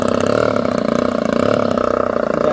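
EPHIL 76cc twin-cylinder electric-start model aircraft engine with efficient mufflers, running steadily at a constant, even drone at an RC flying club; continuous and fairly loud, no voices.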